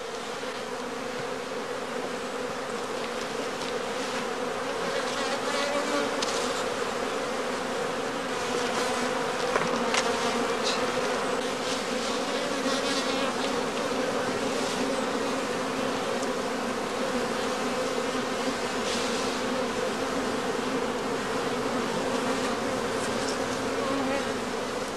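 Honeybee colonies in traditional skep hives at a large heather-honey apiary fill the air with a dense, steady buzzing hum, with individual bees darting close by now and then, continuous and without speech.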